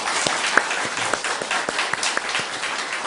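A church congregation applauds in welcome with a dense, continuous patter of clapping and a few sharper claps standing out, steady and fairly close throughout.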